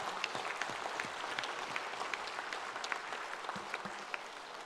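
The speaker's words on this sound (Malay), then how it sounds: "Marilah kita beri tepukan gemuruh kepada mereka semua puan-puan." Steady applause rolls through a women's wing assembly of a political party, a dense wash of many hands clapping, heard fairly faint and distant with scattered sharper claps.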